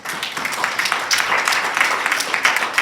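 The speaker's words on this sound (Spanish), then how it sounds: "Dale un aplauso al Señor." A church congregation applauds during a worship class, with dense, steady clapping filling the room at a moderate level throughout, a few voices faintly mixed in underneath.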